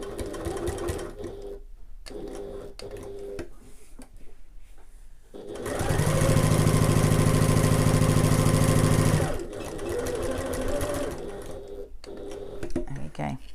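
A sewing machine stitches a bag strap for the Adventurer Sling in one long, loud, even run of several seconds, with quieter handling and a voice before and after.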